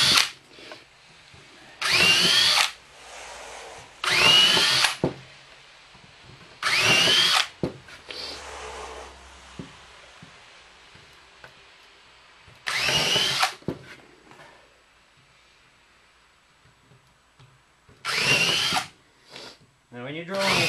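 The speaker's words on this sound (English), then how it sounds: "we're going to drill some holes" A power drill bores holes into wood while a ten-shot rack is built, giving about seven loud whirring bursts of a second or two each, separated by quiet gaps with faint handling noises.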